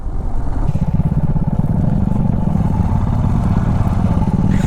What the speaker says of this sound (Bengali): লিটারালি আমরা বাইক নিয়ে খেলা করছি।